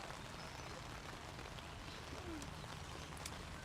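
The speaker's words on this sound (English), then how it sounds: "the rain it hasn't stopped. It's still pretty light" Light, steady rain falling during an outdoor men's U23 softball championship game, a constant soft hiss with scattered faint drop ticks and no talk.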